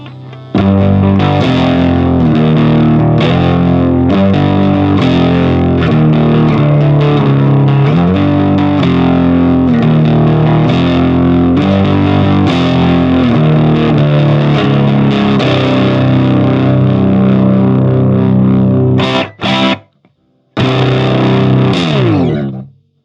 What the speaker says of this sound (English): we're going to do a review and demo of the Whac-A by Big Ears Pedals and 60 Cycle Hum